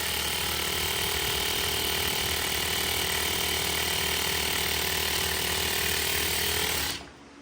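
Merrow MG-2DNR-1 industrial sewing machine, an original Pearl Merrow model, running at speed with a loud, steady mechanical whir and rapid clatter that continues evenly, then stops abruptly near the end.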